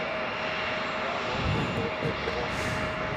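A loud aircraft passes close by at Chicago O'Hare airport, a steady roaring engine drone that swells slightly mid-way and holds throughout with no talk over it.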